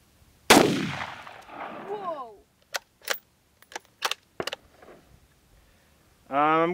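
A sharp, loud single gunshot from a .223 rifle cracks out at an outdoor target shoot, followed by scattered clicks and clacks, with a voice rising at the end.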